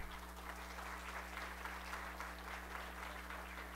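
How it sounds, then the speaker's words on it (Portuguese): An audience at an academy of letters and poets' induction ceremony applauds steadily, a dense even patter of clapping heard at moderate distance over a constant low hum. "uma salva de palmas"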